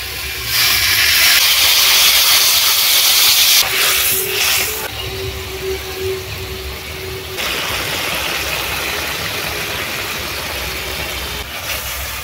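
Water poured onto fried fish and spices in a hot pan bursts into a loud hissing sizzle, then a shorter surge, before settling into a steady simmering bubble.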